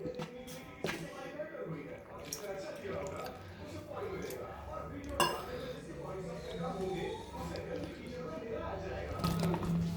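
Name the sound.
mixing bonda flour batter with water in a bowl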